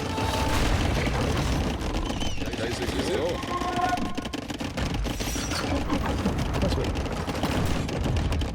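Trebuchet and bomber cannon shots boom through an Age of Empires II battle amid dense unit clatter and combat noise, continuous and loud under a caster's fast commentary.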